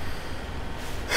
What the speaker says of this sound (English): Sorry for clearing my throat so much